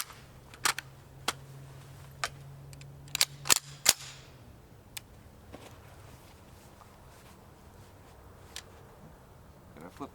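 An FN PS90 SBR with a magnifier firing 5.7x28mm 40gr Barnes VLC rounds at an outdoor range: a handful of sharp, distant-sounding shots spaced irregularly, fairly faint, with small shuffling noises between them.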